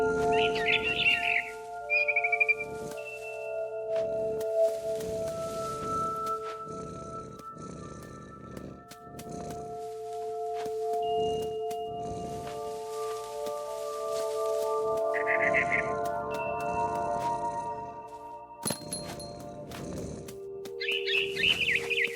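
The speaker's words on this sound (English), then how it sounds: "Then I heard chirping outside my window. It was a barn swallow going back to her nest." A barn swallow chirps in the video game What Remains of Edith Finch, in short bright bursts near the start, the middle and the end, set against sustained tonal game ambience and soft rustling sounds.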